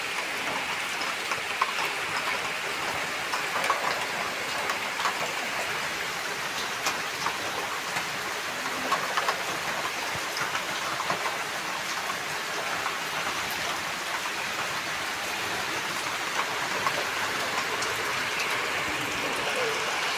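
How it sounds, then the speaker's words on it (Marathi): Steady rain falls on a village in the Konkan during an unseasonal shower, a dense, even patter of drops on surfaces continuing throughout with no break. "खूप पाऊस पडलाय"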